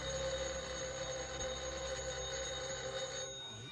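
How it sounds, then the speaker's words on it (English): An old-fashioned telephone rings steadily in a 1950s film scene, its sustained bell tone sitting over a constant hum and fading near the end. "Let it ring. Oh, it will only keep on ringing."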